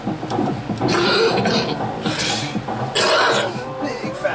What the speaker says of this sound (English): When you make me cough when I laugh